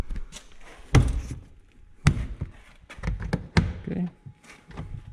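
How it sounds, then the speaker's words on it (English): Front door trim panel clips on a Nissan Kicks being pressed back into place, heard as a series of sharp, close knocks and thuds spaced irregularly, with faint talk in between. "So now we're just clicking clips back in place."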